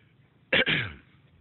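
A single short cough from a person with a cold, a sharp two-part burst heard close and fairly quiet against near silence.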